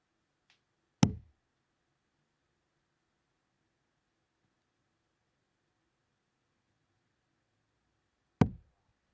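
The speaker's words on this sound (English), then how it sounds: "Maybe someone's just heard that little bit of knocking." Two isolated knocks, crisp and fairly near, spaced several seconds apart with near silence between them, at a professional darts event.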